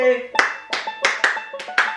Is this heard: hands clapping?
yes